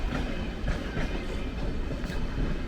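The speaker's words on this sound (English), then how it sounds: "But let's see the ICE2 first." An ICE2 high-speed train at München Hauptbahnhof gives a steady, close rumble with faint wheel clatter, heard alone without voices.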